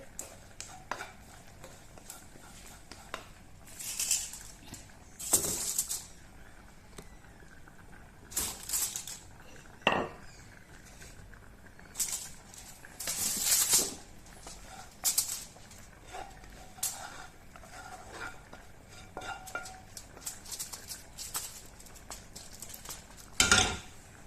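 Hot peanut candy mixture tipped out and worked on a cutting board, heard as scattered thuds, scrapes and clinks of utensils in irregular bursts with quiet gaps between them.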